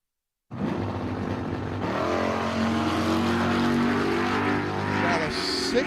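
Drag racing cars launch and roar down a dragway at an outlaws weekend event, with a sudden loud engine blast that builds into a sustained, rising roar; a voice is faintly audible.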